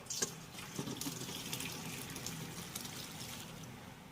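Boiled macaroni and hot water poured from a pot into a perforated colander, giving a steady, moderately quiet rush of water and splashing that runs continuously from start to finish with no talk.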